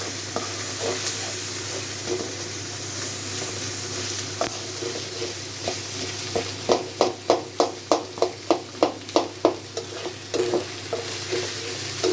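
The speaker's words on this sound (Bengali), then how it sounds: "রসুনটা ভাজা ভাজা হয়ে গেছে" Steady sizzle of garlic frying in a pan, joined midway by a quick run of rhythmic scraping taps from a spatula stirring against the pan.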